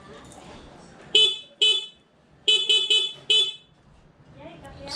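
A newly installed vehicle horn, fitted with a passing light, sounds in six short honks: two single blasts, then a quick burst of three, then one more. The honks are loud and close against a quiet background.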